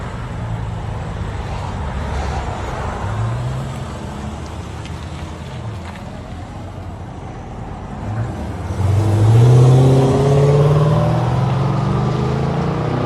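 A 2013 Chrysler 300S with a 5.7L HEMI and dual exhaust, rear mufflers deleted and mid mufflers kept, rumbles at a deep idle, then revs up into a louder, swelling growl near the end.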